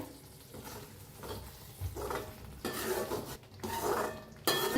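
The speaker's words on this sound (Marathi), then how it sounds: "आता याला हलवून घेऊया।" A spoon scrapes and stirs chicken masala in a pan, several uneven scraping strokes with faint clinks against the metal, close and fairly quiet, with no voices.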